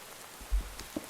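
Rain in the Minecraft video game: a steady soft hiss of falling rain with a few faint low thumps, quiet and even throughout, with no voices.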